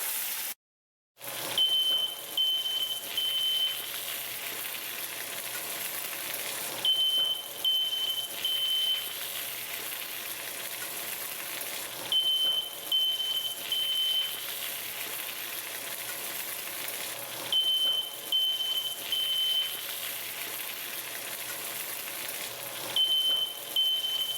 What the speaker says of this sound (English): I just had to go in with the fire alarm.